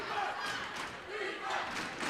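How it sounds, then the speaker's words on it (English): A crowd and team bench cheer and shout at a girls' high school basketball game, a loud, sustained roar of voices swelling in waves in a gym, with a commentator talking over it. "prompts, I should say, the cheers from their bench and from their crowd"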